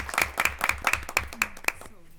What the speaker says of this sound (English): I feel like we should clap.